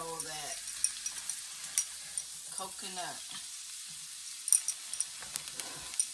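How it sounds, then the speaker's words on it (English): Pork loin and onions searing in coconut oil in a pan make a steady sizzle and crackle under a speaking voice, with a few sharp pops and clinks of a utensil against the pan. "I'm just trying to sear this pork loin off because it's going to go into the oven"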